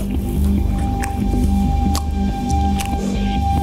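Wet, squishy chewing of a clam from creamy clam chowder, close to the mouth, with soft irregular smacks and squelches running continuously.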